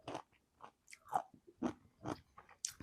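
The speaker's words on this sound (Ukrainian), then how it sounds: "Ви чуєте, як воно хрумтить?" Crisp, wet crunching of firm fermented beetroot being bitten and chewed up close, repeated bites in an uneven rhythm.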